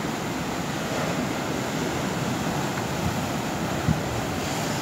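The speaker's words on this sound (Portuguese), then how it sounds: "Olha lá, vem a onda, ó." Ocean waves washing onto Prainha beach at Jureia in Peruibe, Sao Paulo, a steady broad rushing roar of surf close by, with no voices.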